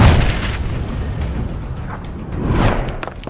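Heavy, booming blasts of a grenade explosion in a Call of Duty comic, a loud burst at the start with rumbling debris, then a second swelling boom near the end, with no talking.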